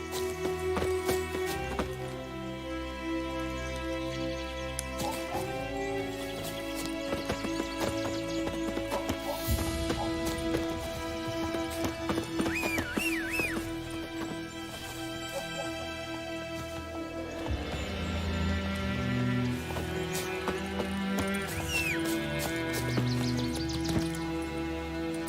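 In The Witcher 3, a horse trots with steady, rhythmic hoof clip-clops under sweeping orchestral game music. A short whinny rises midway through, and the hoofbeats and score continue together to the end.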